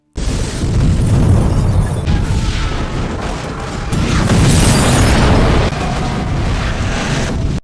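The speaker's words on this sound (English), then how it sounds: "the green zone is firebombed and destroyed" Firebombing of a city's green zone in a zombie film, a sustained, loud, rumbling roar of explosions and burning with surges and bursts layered throughout, dense and continuous with no voices.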